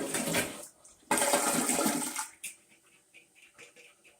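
A Glacier Bay dual-flush toilet in a suburban Dallas home flushes in a loud close gush, surges again, then drains away to quieter gurgles and trickling as the tank begins refilling.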